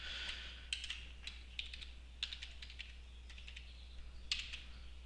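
Keys clatter as a password is typed on a computer keyboard, quick irregular taps in short bursts, fairly close and quiet over a steady low hum, with no talking.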